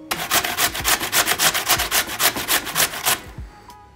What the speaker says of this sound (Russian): Сначала нам нужно натереть картофель на терке.